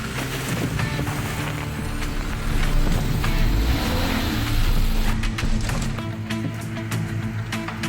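A Jeep grinds along a narrow, winding, overgrown woods road strewn with obstacles, its engine and tire rumble loud and steady throughout, with rattles and bumps swelling in the middle.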